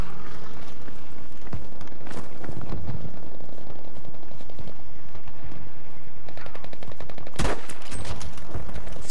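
Gunfire in Battlefield 5 multiplayer: loud, close bursts of rapid automatic fire mixed with scattered single shots and one sharp, heavy blast near the end, set against a constant rumbling battlefield din.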